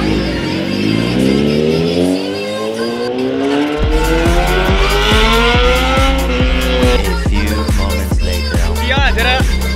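A Kawasaki Z900 motorcycle accelerates hard through the gears, its engine pitch climbing in repeated rising sweeps with sharp shift breaks, loud and close, with a voice heard briefly.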